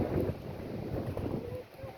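Strong wind gusting across an open microphone on a rural road between villages, a dense, rumbling buffeting that swells and dips steadily throughout with no break.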